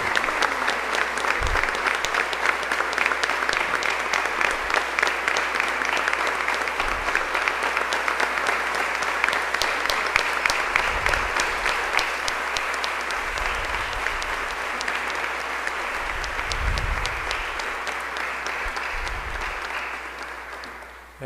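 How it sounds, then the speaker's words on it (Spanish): A church audience applauds steadily and loudly for about twenty seconds after a testimony, the clapping dense and sustained before tapering off at the end. "Le damos un aplauso a Miguel Ángel"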